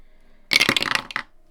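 Dice clatter and tumble briefly on a hard surface for a savings challenge roll, a short burst of rattling clicks with a final small bounce, close and alone.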